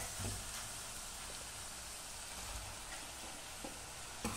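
Chopped tomatoes frying in a pan for a green gram curry make a continuous soft sizzle and crackle, with a few light scraping clicks, fairly quiet and steady without any talking.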